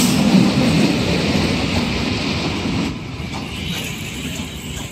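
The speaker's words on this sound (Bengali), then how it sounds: "এই তো সবেমাত্র ট্রেন এসে পৌঁছালো।" A train pulls in at Beldanga station in West Bengal, India, its steady rumble and rolling clatter loud and close, easing slightly as it slows.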